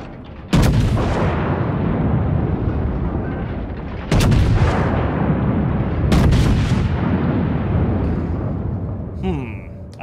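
Heavy warship main-battery salvos in World of Warships, loud booming blasts at the start and around four and six seconds, each followed by a long rumbling roar that sustains between shots, with a faint electronic chime near the end.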